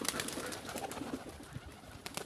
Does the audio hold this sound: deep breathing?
no